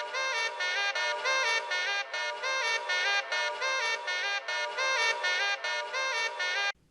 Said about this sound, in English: the very last part of the horn riff used in the chorus, which he pans left and right and has echoing throughout the verse section